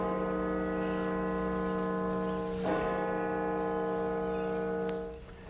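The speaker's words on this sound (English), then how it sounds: "the Washington National Cathedral bell tolled 19 times today" The Washington National Cathedral bell tolls in a sustained, droning ring that holds for several seconds and swells with a brighter strike partway through, with no voices.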